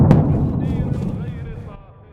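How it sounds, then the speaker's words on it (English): A single heavy boom opens the moment, followed by a long rolling rumble and fading echo; heavy Soviet 12.5 mm machine gun fire, deep and blasting, with a faint voice underneath. "This is not an AK. It's a Soviet machine gun."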